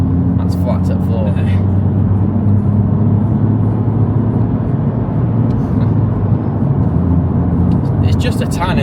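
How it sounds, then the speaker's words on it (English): A BMW F20 1 Series with an M140-style exhaust runs at full throttle. A constant engine roar and low exhaust rumble fill the clip, with faint burbles and brief higher crackles near the start and end. "It's just a tiny little burble, isn't it?"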